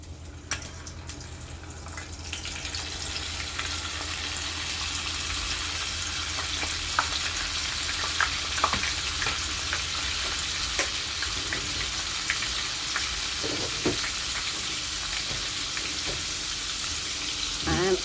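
Butter sizzling and frying in a hot pot of oil for fried chicken, a steady close crackle with occasional stirring clinks, running continuously with no talk.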